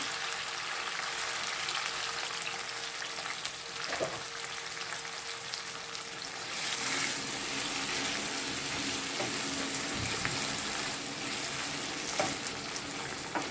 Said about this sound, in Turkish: Salçamızı kavurduk. Biberi patlıcanı koyuyorum.